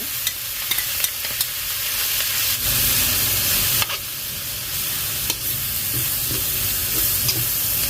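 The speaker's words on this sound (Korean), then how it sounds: "일단 바로 김치를 투하하고" Kimchi for fried rice stir-fried with marinated meat in a hot pan, a dense steady sizzle with repeated spatula scrapes and clicks, close and loud throughout, no talking.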